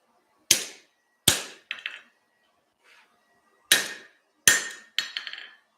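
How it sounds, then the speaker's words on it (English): A hammer drives a center punch into metal in a forge shop, giving sharp, sudden metallic cracks in separate blows. Some of them bounce into quick, fainter follow-up taps, and there is near silence between the strikes. "So I'm going to go ahead and center punch it and drill a hole"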